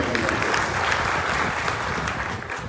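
A crowd at a Vasantrao Naik birth anniversary celebration in Gahuli, Pusad claps loudly and continuously, a thick, even wall of applause that fades only slightly at the end.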